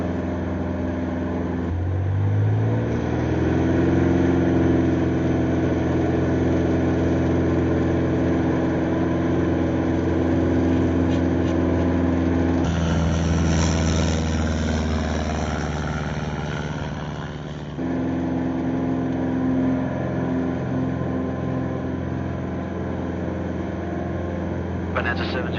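Bonanza propeller airplane taking off from a runway, a steady droning engine whose pitch rises as power comes up, heard from inside over continuous radio and cockpit talk.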